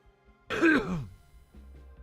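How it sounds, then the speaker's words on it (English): A single harsh cough or throat-clearing sounds close into a microphone. It is one short burst followed by quiet. "I turned off the computer audio and totally coughed into the microphone"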